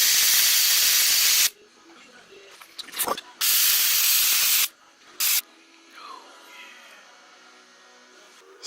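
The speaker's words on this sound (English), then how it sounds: "CRC, Mass Airflow Sensor Cleaner." CRC mass airflow sensor cleaner sprayed onto a Saab MAF sensor, several loud hissing aerosol bursts of a second or two each, separated by quiet handling noises.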